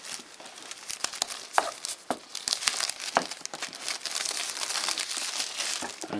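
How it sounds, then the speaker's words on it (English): Cellophane wrap is peeled off an Apple iPad 2 box, producing close, continuous crinkling and tearing with sharp crackles throughout and no talking. "that's the cellophane coming off now"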